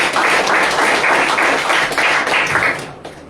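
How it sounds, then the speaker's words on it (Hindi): A church congregation at a Sunday worship service claps together in a loud, fast, steady rhythm, the claps fading out after about three seconds. "ताली बजाए"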